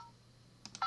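Short burst of telephone keypad dialing tones in the Nancy Drew game Secret of the Scarlet Hand, a few quick beeps near the end after a faint tone, clean and close with no talking.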